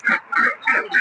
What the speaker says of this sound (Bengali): এই যে আমরা যে মুরগিগুলো দেখতে পাচ্ছেন